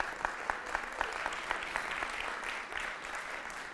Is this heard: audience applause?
yes